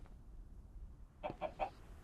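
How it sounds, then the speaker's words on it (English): Chickens in a hardcore survival video game give three short clucks in quick succession, close and fairly clear, after a quiet stretch of faint low background hum. "let's breed these chickens"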